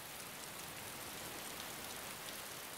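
Steady rain hisses evenly across the scene in the DayZ Standalone game world, a soft, constant downpour of fine droplets with no pauses and no other sounds standing out.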